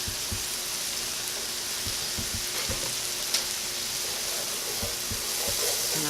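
A butter and almond flour roux sizzles in a pan with vegetables, a dense steady crackle up close, broken by several soft knocks and scrapes from stirring and one sharp clink near the middle.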